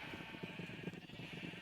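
Sheep in a video game bleat in a rapid, wavering chorus of short overlapping cries, quiet and with no talk over them.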